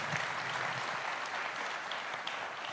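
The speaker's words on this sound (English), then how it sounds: "Big round of applause." Soft, even audience applause at a global citizen awards event carries on throughout, heard at a moderate distance with no speech over it.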